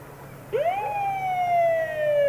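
A fire engine siren sounds at a town anniversary parade, rising sharply into a long, loud wail that holds its pitch and slowly sinks, close by and alone.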